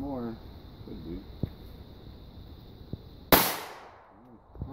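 A .22 caliber gun fires single sharp cracks at an outdoor range, a couple of small pops followed by one louder close shot, with adults and someone talking in between.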